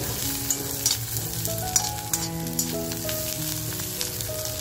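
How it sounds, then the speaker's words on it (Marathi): Masala with chili is sautéed in a pan for mutton curry, giving a continuous close sizzle and crackle with occasional stirring taps, under soft steady tonal background music. "खमंग परतवून घ्यायचे आपल्याला."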